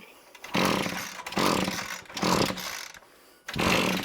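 A small two-stroke strimmer engine that will not start, given carburetor spray with throttle open, sputters and briefly fires in several rough bursts, revving up then cutting out, close by and loud.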